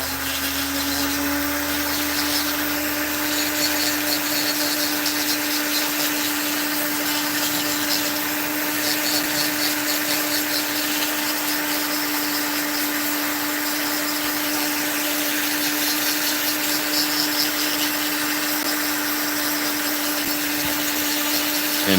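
A Dremel rotary tool with a burr carves a wooden wood spirit figure, a steady high-pitched motor whine that runs unbroken and fairly loud throughout, with faint grinding as the burr bites into the wood.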